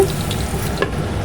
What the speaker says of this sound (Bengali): একটু ভাজা চলুক